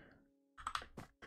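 Keystrokes on a Keychron K2 compact mechanical keyboard land in a few close, sharp clicks and clacks after a quiet start, with a faint steady hum underneath.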